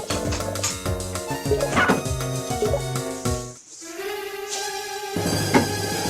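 Yapping puppy barks from the video game Shantae: Risky's Revenge, several short bursts over the game's bouncy music, close and fairly loud.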